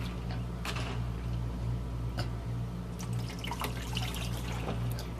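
Warm water runs steadily from a kitchen tap, a constant close splashing flow with light drips and clinks over it, and no one speaks.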